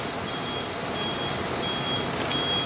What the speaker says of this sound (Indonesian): inilah teman unit bus Makmur yang tronton ya